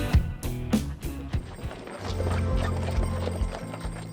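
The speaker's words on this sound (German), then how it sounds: "Mit dem Pferdeschlitten zum Beispiel." Horses pulling a sleigh through a snowy Canadian winter wilderness, hooves clip-clopping in a steady close rhythm with brief snorts and whinny-like calls, and jingling and creaking of the sleigh underneath.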